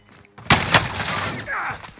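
Gunfire in the Call of Duty: Warzone video game, with two sharp loud reports followed by a lingering burst of noisy shots and debris, close and dense over about two seconds.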